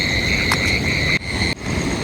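Steady, dense insect chirping under a banyan tree in a dark forest at night, high continuous trilling that fills the background, briefly cut by two sharp dropouts.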